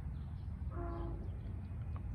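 LIRR DE30AC #404 diesel train at Center Moriches station on Long Island, heading eastbound, with a steady low rumble and a brief sustained horn blast near the middle.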